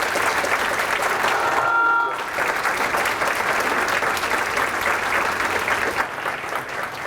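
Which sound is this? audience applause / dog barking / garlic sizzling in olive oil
audience applause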